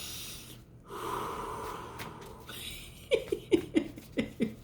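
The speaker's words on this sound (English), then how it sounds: "taking deep breaths" A person draws a long, audible inhale and slow exhale, followed by a series of short, rhythmic breaths puffing out in quick succession, close and fairly quiet with no talking.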